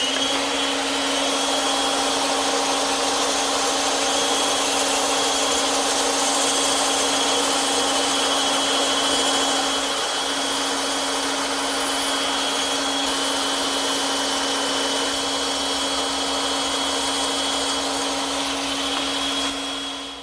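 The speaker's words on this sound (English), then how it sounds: "And now I'm ready to cut those out using my bandsaw." A bandsaw runs steadily through 3/4 inch wood stock while cutting out traced furniture legs, giving a loud, continuous machine whine with a constant hum that holds for the whole stretch and then stops, with no talking.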